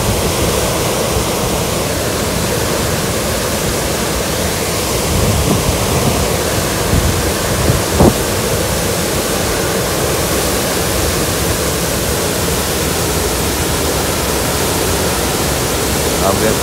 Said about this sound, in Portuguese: tá saindo água com muita força aí